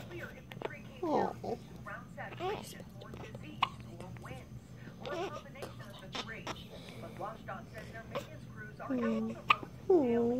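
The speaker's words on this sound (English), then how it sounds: "She got the hiccups." A baby hiccups several times in small, soft bursts, with quiet whispered and spoken adult voices around them.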